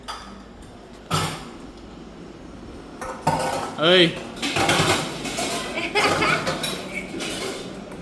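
Steel dishes and utensils clatter and clink as they are washed by hand at home, with sharp metallic knocks and scraping close by while people talk.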